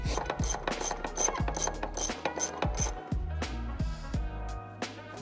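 Ratchet wrench loosening 13 mm upper shock bolts on a C5/C6 Corvette during a coilover install, a close, loud run of rapid clicking bursts with brief pauses between strokes.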